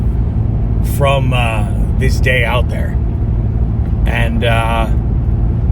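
A car drives steadily on the road, its low continuous rumble of engine and tires filling the cabin while someone talks over it.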